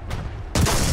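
A tank cannon in the video game War Thunder goes off after a quiet stretch: a sudden, loud, sharp blast about halfway in, followed by a sustained roar.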